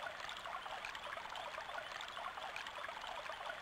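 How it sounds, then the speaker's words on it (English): A steady stream of flowing water from the video game Alundra, a soft continuous burble and trickle that runs evenly throughout, quiet and without speech. "Listen to the water."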